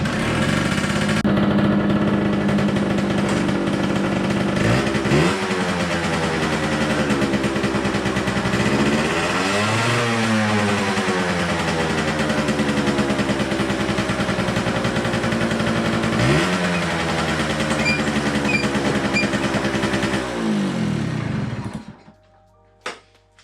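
Close and loud, a Suzuki GT50 two-stroke motorcycle engine catches and runs with a buzzy, raspy idle, revving up and dropping back several times before it is shut off at the end.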